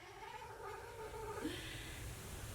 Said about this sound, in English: The cats are having this little spat up there.